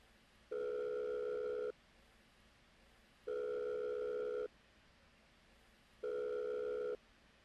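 Telephone dial tone for an outgoing call: three steady electronic beeps, each about a second long, evenly spaced with gaps of silence, clear and alone with no talking.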